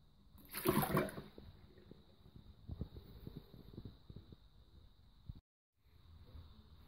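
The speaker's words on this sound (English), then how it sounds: "Use a takeaway container or similar to scoop out the majority of the water from inside the cistern." Water sloshing and trickling as a takeaway container scoops it out of a toilet cistern during a syphon replacement, beginning with one loud splashy pour, followed by softer intermittent drips and splashes, close and quiet with a faint steady hum behind.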